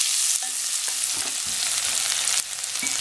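Chopped onion sizzles steadily in a hot pan for a beef stroganoff, a loud continuous hiss broken by a few soft knocks of stirring, with no voices present.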